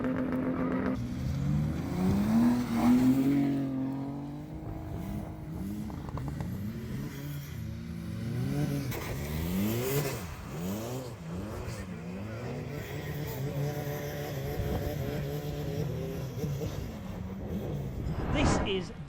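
An E36 BMW drift car with an Escort van body revs hard through a drift, the engine note rising and falling in repeated sweeps with tyre noise, loud and close throughout.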